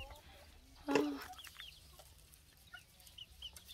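A chicken clucks once, faint and fairly distant, followed by softer scattered calls over quiet outdoor background noise.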